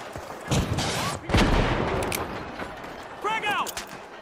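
A rocket launcher fires in the shooter game The Finals: a sharp whooshing blast with a heavy boom, among other bursts of gunfire and impacts in a busy, chaotic firefight.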